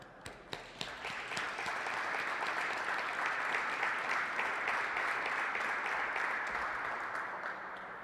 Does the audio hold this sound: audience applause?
yes